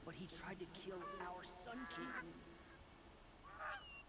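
Birds honking in the Horizon Zero Dawn video game, a few goose-like calls rising and falling near the start and again briefly later, moderately close amid low ambient noise.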